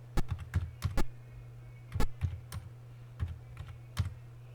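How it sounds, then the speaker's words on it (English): Keys on a calculator-style keypad being typed in short bursts of taps, several quick presses then pauses, fairly close, over a steady low hum. "So I'm just typing in each data value"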